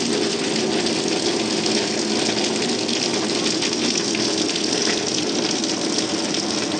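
Flood water flowing through a street between two areas, a steady, dense rushing wash that stays even and close for the whole stretch, no one talking.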